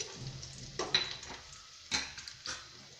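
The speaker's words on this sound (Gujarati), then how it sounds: "હવે આપણે તેમાં ડુંગળીના પીસ એડ કરીશું અને આમને સાતડી લઈશું" Onion pieces sautéing in hot oil with mustard seeds and cumin for ragda patties, a soft steady sizzle broken by a few sharp stirring scrapes and clinks of a utensil against the pan, with no talking.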